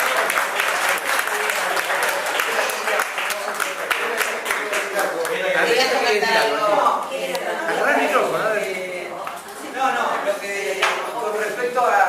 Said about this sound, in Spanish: Un aplauso para las tres.